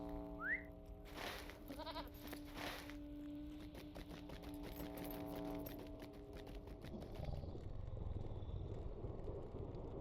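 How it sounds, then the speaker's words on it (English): A goat mount in The Lord of the Rings Online bleats, heard as a few bleats over a background of sustained game music that gives way to rumbling hoofed movement. "Let me get on my goat."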